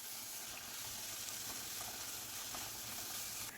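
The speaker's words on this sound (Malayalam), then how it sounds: "ഒരു 2 ടേബിൾ സ്പൂൺ മുളക് പൊടിയാണ് ഇട്ട് കൊടുത്തൊന്ന് വഴറ്റി കൊടുക്കാം." Turmeric and chili powder sautéing in a pan for a Kerala prawn curry (chemmeen mulakittathu), giving a steady, close, even sizzle with no talking.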